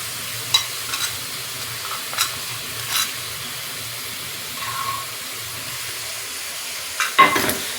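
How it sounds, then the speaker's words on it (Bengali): Onion, garlic, chili powder and coriander powder fry in a pan with a soft, continuous sizzle, broken by scattered scrapes and taps of a spoon stirring, and a louder clatter near the end. "এটা সুন্দর করে ভেজে নেব।"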